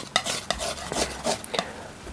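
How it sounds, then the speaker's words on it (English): A palette knife mixes oil paint for skin-tone color on a palette, giving a series of short scraping, smearing strokes at close range with brief pauses between them and no talking. "when I'm mixing with a palette knife, I'm being very thorough"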